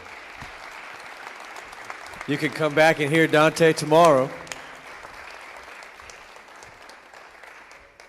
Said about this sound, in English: Let's give another round of applause for Dante and Stewart.